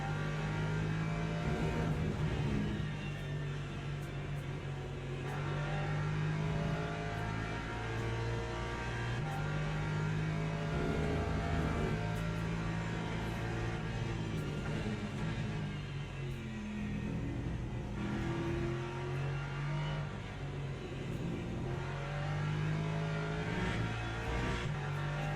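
A Porsche race car in a racing game at Spa, part of a 62-car grid in a 12-hour race. Its engine holds a steady loud droning rumble with gear shifts and shifting revs, and other cars are heard faintly around it.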